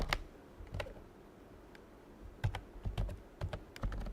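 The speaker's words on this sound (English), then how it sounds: "So here you can start typing the code." Typing on a computer keyboard while entering C program code, with irregular bursts of soft, close key clicks and short pauses between them.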